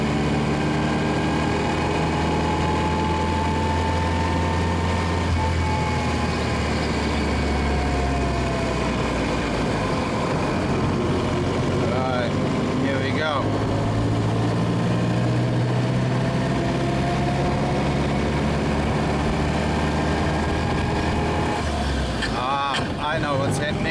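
A 1927 Austin 7 Chummy Tourer running in third gear, its engine a steady low drone with some rising and falling pitch, close and continuous for the whole stretch, while someone talks over it now and then.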